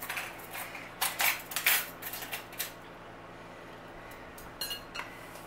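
A metal teaspoon clinks against dishes while measuring salt for supper, a handful of light, close taps early on and a couple more near the end, with no talking.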